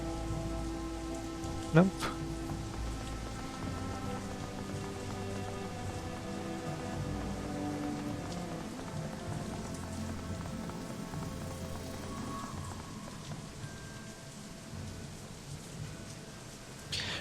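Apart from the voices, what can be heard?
rain pelting in video game Shadowrun Hong Kong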